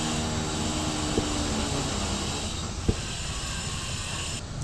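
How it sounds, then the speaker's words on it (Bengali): Small nimki dough pieces fry in hot oil with a continuous, even sizzling hiss that fills the background, broken by a couple of faint pops. "তেলটা কিন্তু মোটামুটি ভালোই গরম আছে এই তেলের মধ্যে ছেড়ে দেবো"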